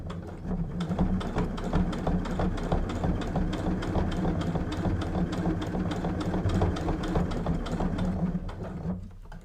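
A sewing machine stitching a fabric side pouch runs steadily at close range, its needle hammering in an even, rapid rhythm for nearly the whole stretch before stopping at the end.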